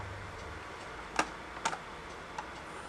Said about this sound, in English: just click on the photo icon once again